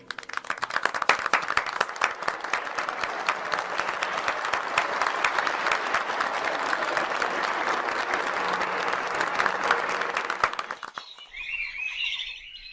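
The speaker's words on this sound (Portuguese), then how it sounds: "Vamos dar uma salva de palmas às crianças que fizeram sua primeira comunhão." Applause for children after their first communion Mass, a dense crowd of clapping that fills the room for about eleven seconds before fading out, with a few bird chirps audible at the end.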